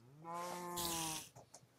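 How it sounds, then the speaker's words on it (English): Cow mooing in the video game Minecraft, a single drawn-out low moo with a strained, harmonic tone lasting about a second, followed by brief faint clatter. "where's all those cows noises coming from?"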